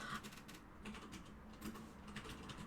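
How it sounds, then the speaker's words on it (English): Quiet, steady keyboard typing indoors, with clustered key clicks coming in bursts, faint and close. "you're typing so loud"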